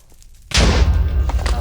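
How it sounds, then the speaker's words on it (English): A Wither boss explosion in modded Minecraft skyblock lands as one sudden loud blast after a quiet lead-in, then rumbles on with a broad, noisy roar that stays strong to the end. "try and avoid some of that explosion damage"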